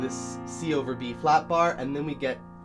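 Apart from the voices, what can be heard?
No everyday noises stand out.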